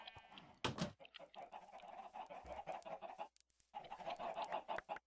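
Chickens on a massive video game chicken farm, a busy overlapping chorus of clucks and squawks, fairly faint, with a brief louder burst early and a short lull near the end.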